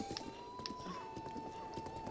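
Faint in-game horse hooves clatter in quick irregular steps alongside a low steady tone, with a brief neigh-like rise near the middle and no voices.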